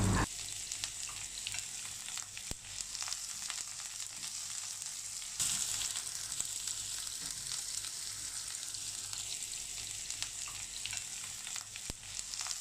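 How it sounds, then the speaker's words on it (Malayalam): Sliced onion frying in hot oil for a spinach cutlet makes a steady, bright hiss that swells briefly midway, with a few faint knocks and no speech. "എണ്ണ ഇപ്പോൾ നന്നായിട്ട് ചൂടായി വന്നിട്ടുണ്ട്. ഇനി നമുക്കിതിലേക്ക് അരിഞ്ഞു വെച്ചിരിക്കുന്ന സവോള, ഇഞ്ചി, വെളുത്തുള്ളി, പച്ചമുളക് ഓരോന്നായിട്ട് ചേർത്ത് കൊടുക്കാം."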